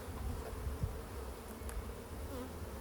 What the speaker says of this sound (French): c'est chargé en abeilles là. Tu vois, donc là c'est des abeilles.